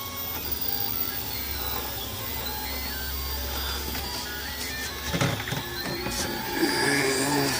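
A 3D printer runs a test print nearby, with steady stepper-motor whirring and buzzing plus brief mechanical clicks and shifting tones as the print head moves.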